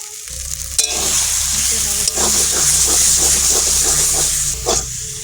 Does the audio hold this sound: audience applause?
no